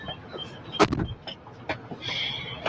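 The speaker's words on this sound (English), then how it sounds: "So I'm going to roll his window down." A car's power window motor whirs as the window rolls down, with a short thump and faint rustling around it.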